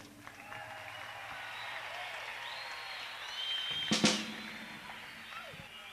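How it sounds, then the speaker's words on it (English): Steady roar of applause and cheering from a large crowd at a 1973 concert in Fort Worth, Texas, rising slightly near the end with a sharp whistle or shout cutting through. "I think you can give yourself a good round of applause"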